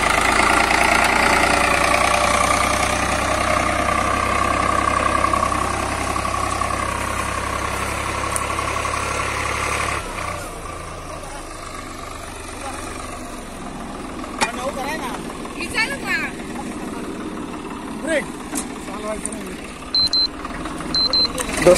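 A Swaraj 45 hp tractor engine runs steadily while pulling a cultivator with two men standing on it, a loud continuous drone with a drop in tone midway, and someone speaks over it.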